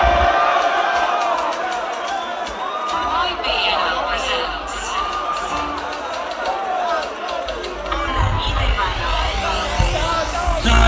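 A packed crowd cheers and shouts at an outdoor music festival concert, loud continuous roaring and whooping with chatter mixed in and a voice over the noise.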